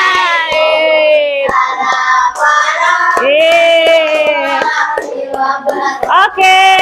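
A fifth-grade classroom claps hands together while children's voices chant and shout loudly and continuously over the beats, the claps landing as sharp, close, evenly spaced hits.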